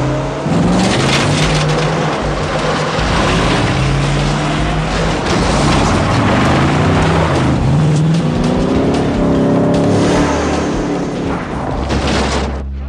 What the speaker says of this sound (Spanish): Atención, el coche perseguido huye de nuevo.